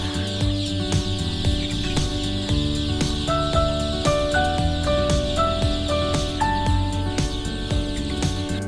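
Chickens clucking and calling steadily throughout at a poultry farm, a dense flock sound with overlapping voices and no talk.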